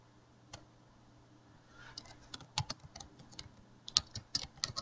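Keys clatter on a computer keyboard in quick, uneven bursts, starting sparse and growing denser and louder over the last few seconds, with no voices.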